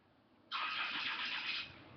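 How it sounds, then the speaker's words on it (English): A car passes outside with a single loud, broad whoosh that rises abruptly, holds for about a second, then eases back into a steady background hum. "And there's a lot of cars driving by too."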